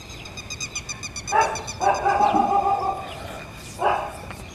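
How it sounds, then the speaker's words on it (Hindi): Dogs barking outdoors: several short bark bursts at moderate distance, with bird calls faintly in the background. "कुत्ते भी अभी भोगेंगे"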